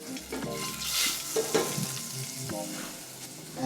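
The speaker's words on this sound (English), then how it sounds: "we're adding a little bit of veggie oil and some butter into the pan" Vegetable oil and butter sizzle and spit in a frying pan, a steady close crackle with a utensil stirring and scraping through it.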